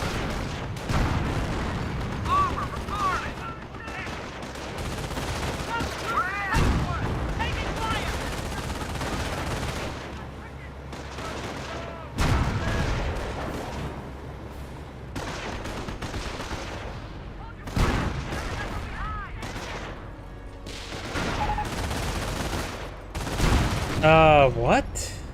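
Battlefield gunfire in the World War II strategy game Company of Heroes, with bursts of rifle and machine gun shots and heavier thumps that rise and fall across the stretch, while a commentator keeps talking underneath.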